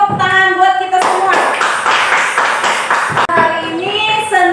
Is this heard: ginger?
no